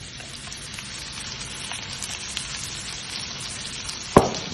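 Breadcrumb-coated calamari frying in a pan with a little oil, a steady close broadband sizzle and crackle throughout, with one sharp louder pop near the end.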